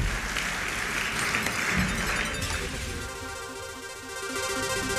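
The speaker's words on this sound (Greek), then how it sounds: "Και αφού λοιπόν το χειροκροτήσουμε όλοι πολύ δυνατά" An audience applauds at the Man of the Year Awards 2010 ceremony. The dense, steady clapping lasts about three seconds, then thins out as music with sustained tones takes over.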